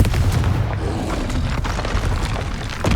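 Confringo blasting curse explosions in Hogwarts Legacy, a sustained rumbling boom with repeated low impacts and crackling debris, loud and close throughout with no pause.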